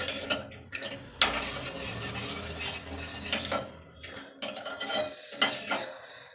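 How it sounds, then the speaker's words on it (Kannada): Thick millet porridge (ambli) being stirred by hand in a pot, producing soft irregular scraping and thick sloshing sounds with occasional clinks, close and fairly quiet, coming in uneven bursts. "ಇದು ಗಟ್ಟಿ ಹಾಗಾಗಿ ಕೈ ಆಡ್ತಾ ಆರಬೇಕು ಈ ಥರ ಕೈ ಆಡ್ತಾ ಇದೆ"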